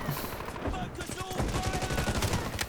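Rapid automatic gunfire from an engineer's M7 rifle in the Delta Force shooter, a dense, fast stream of shots running almost the whole time with a little game noise behind it.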